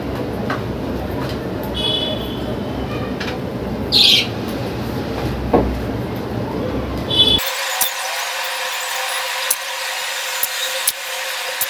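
Pet birds and doves feed while one sharp chirp rings out clearly over a low mechanical hum, followed by faint, scattered calls and small ticks.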